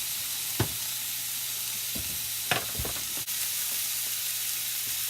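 Zucchini fries sizzling in a frying pan with a steady, loud hiss, broken by a few soft knocks and scrapes as the pieces are flipped, and nobody speaking.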